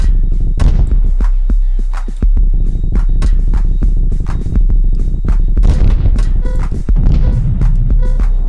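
Loud, dense volley of firework bangs from the Angel Flare 8800 GT, sharp cracks and booms overlapping in rapid succession over a constant low rumble, with barely a pause throughout.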